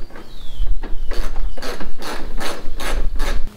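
A ratchet wrench clicks in quick, steady bursts while bolts come off the bumper trim of a Toyota Tacoma, loud and close with short pauses between strokes.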